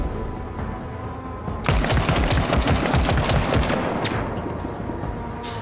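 Rapid bursts of heavy plasma cannon fire in a video game erupt after a quieter hum, a dense, loud barrage of repeated blasts continuing for several seconds.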